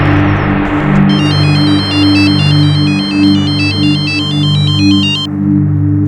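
A telephone rings for an incoming call from an orphanage, a loud electronic ringtone repeating a rapid chiming melody for about four seconds over a steady low hum, no voices.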